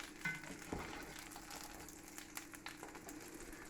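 Soft, continuous sizzling of sandwiches frying in a pan, faint and steady with a few brief clicks.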